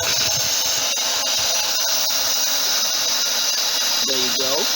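A vacuum cleaner runs on a 6 kW low-frequency off-grid inverter, giving a steady, loud whirring roar that holds through the whole stretch, with a faint voice briefly near the end.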